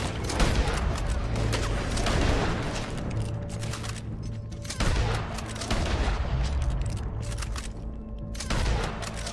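Rapid bursts of gunfire in Red Dead Redemption 2, dense volleys of loud overlapping shots with booming reports, continuous and close through the whole stretch.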